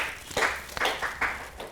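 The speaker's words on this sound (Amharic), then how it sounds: "እናንተ ደግሞ በደንብ አድርጋችሁ አጨብጭቡለት" A studio audience at a children's quiz show gives a brief round of applause, a handful of separate claps that are spaced out and uneven.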